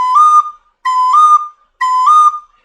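A soprano recorder plays three matching short phrases of the Day-O melody, moving from B up to D with an accented, harder-blown D, each phrase clear and close with brief silences between.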